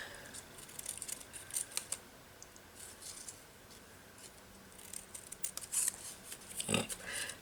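Scissors cut a tree shape out of paper with scattered, irregular snips, close but soft, against a quiet background.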